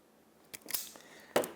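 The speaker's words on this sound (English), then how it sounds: "I'm going to cut the wire" Wire cutters snip and strip electrical wire in a quiet room. Two or three sharp clicks and crunches stand out against near silence.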